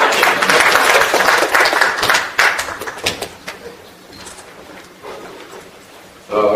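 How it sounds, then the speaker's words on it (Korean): Audience applause at a Korean National Assembly seminar ceremony marking the 70th anniversary of liberation, loud dense clapping from a crowd that gradually thins and fades out. "큰 박수로"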